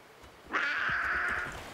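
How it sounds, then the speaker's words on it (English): A wolf howls in the video game Far Cry 5. A single sustained howl begins abruptly and holds steady for about a second, loud and alone over quiet game ambience. "Wolves!"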